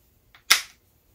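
TR50 toy blaster firing a yellow jawbreaker round: a faint click, then a single sharp close pop with a brief hissing decay, in a quiet room.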